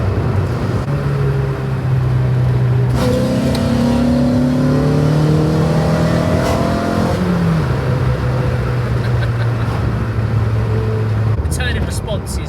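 Track-focused Renault Clio RB cornering, its engine droning steadily from inside the cabin, with pitch shifts as it works through the bend; a voice talks over the engine throughout.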